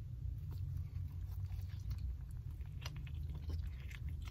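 Someone chews an Italian pretzel melt sandwich with a chewy pretzel bun, salami, mortadella, capicola and cheese, giving close, soft, wet mouth sounds and small bites over a steady low rumble.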